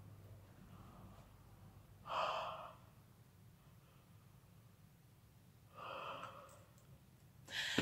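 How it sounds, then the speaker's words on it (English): A person forcing a yawn: three breathy exhales, the first two long and the last cut short, fairly close and quiet with no talking. "And you can actually force a yawn."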